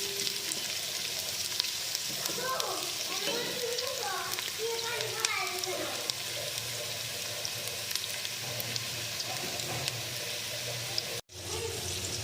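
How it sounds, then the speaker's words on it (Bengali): Sliced onions deep-frying until crisp in a large rice cooker pot give a steady, dense sizzle that runs almost unbroken, with a voice talking briefly over it early on before the sound cuts off near the end. "যে এখানে আমি হচ্ছে এখন পেঁয়াজ বেরেস্তা করে নেব।"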